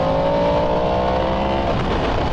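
A 2023 Yamaha MT10 motorcycle with its exhaust servo valve deleted, engine droning loud and steady at speed on a rough road, with a harsh, raspy roar and building intensity near the end.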